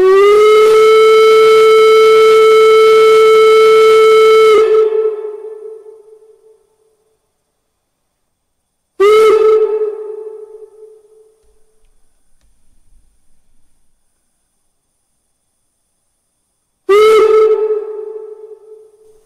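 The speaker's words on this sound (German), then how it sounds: "Wird mit Funktionstaste 2 oder 3 der Lockpfiff aktiviert" The sound-unit steam whistle of a 1:32 scale KM1 model of locomotive Baureihe 18 201 blows three times, one long loud blast then two short toots with silent gaps, each fading with a hiss, with no talking.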